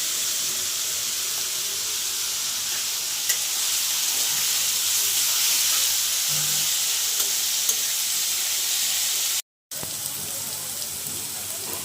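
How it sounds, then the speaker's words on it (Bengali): Chopped vegetables seasoned with turmeric and salt fry in a pan for a Bengali chorchori of kachki fish and eggplant, giving a steady, close sizzling hiss that runs throughout with one brief dropout near the end. "সবজি ভালো করে কষিয়ে নিয়েছি"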